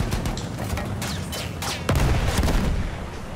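Gunfire in the Battlefield 1 video game, with rapid cracks and booming shots overlapping in dense bursts over a rumbling battle backdrop, loud and continuous without speech.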